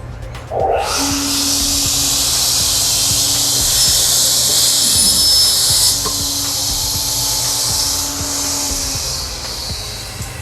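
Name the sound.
vertical panel saw making a small cut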